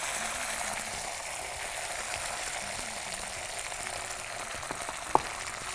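Onion sautéing in a pan for a chicken dish, a steady, soft sizzle throughout with a few faint clicks and one sharp tap near the end, no talk.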